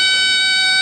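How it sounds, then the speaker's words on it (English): A burglar alarm sounds a steady, loud, piercing electronic tone, held continuously and close, with nothing else heard. "You want to hear the burglar alarm?"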